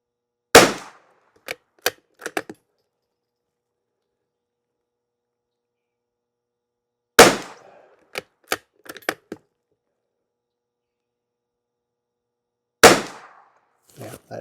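Three sharp gunshots of CCI SV rimfire ammunition lubed with Trewax, spaced several seconds apart on a humid, foggy range, each followed by a few quick metallic clicks of the action being cycled.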